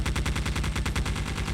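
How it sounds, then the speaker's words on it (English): Turret gunfire in the video game Geist, a loud, deafening rapid burst of repeated shots in a fast even rhythm, close and continuous with no talk. "I will turn down this gunfire in post, because it is deafening"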